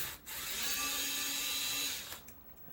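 A small power drill or electric screwdriver whirs steadily for about two seconds, removing screws from a Hitachi Pentium III all-in-one computer, close and alone, then winds down with a few clicks.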